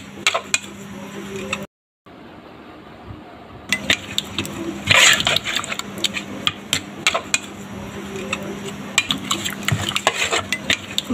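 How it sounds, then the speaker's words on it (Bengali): Marinated meat for biryani, with bay leaf, cardamom, cinnamon, sour yogurt and soy sauce, is mixed by hand in a metal bowl, producing repeated wet squelches and clinks of metal. One short silent gap breaks the sound. "ভালো করে মাংসটাকে মাখিয়ে নিচ্ছি"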